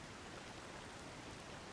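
Steady rain falls in Zelda: Tears of the Kingdom, a dense, even hiss of rainfall continuing at a constant level throughout, with no voices.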